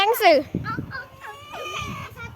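A chicken gives a few quick, bright clucks close by, mixed with brief squawky calls over about two seconds.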